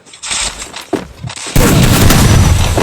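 Gunfire in a shooting video game, heard as a few sharp shots followed by a sustained loud burst of rapid fire that continues to the end.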